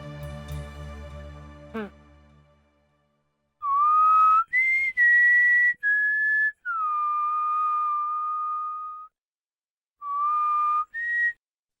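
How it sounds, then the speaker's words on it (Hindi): A woman whistles a slow melodic tune in clear, sustained phrases with short pauses between them, loud and close, after a brief moment of speech at the start. "इस तरह की सीटी कोई औरत भी बजा सकती है।"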